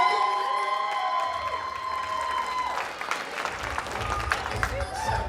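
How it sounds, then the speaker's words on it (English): A comedy club audience applauds and cheers loudly, clapping building with whoops and shouts mixed in, continuing steadily throughout. "Go ahead, start clapping up for Jason Grindle, everyone!"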